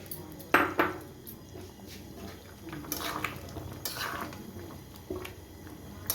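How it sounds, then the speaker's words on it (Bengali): Poppy seed paste ground with three green chillies goes into a pan of boiled drumsticks and potatoes, with a few sharp metal clinks of a spoon against the pan and soft scraping and stirring between them, close by. "এবার আমি এর মধ্যে পোস্তটা দিয়ে দিচ্ছি"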